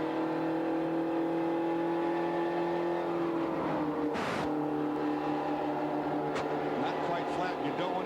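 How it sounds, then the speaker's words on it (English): A Spec Racer Ford race car engine at the 2001 SCCA Runoffs holds a loud, buzzing drone, drops away briefly with a rough burst of noise, then climbs again through rising revs. "Listen to this engine when he goes up here to one."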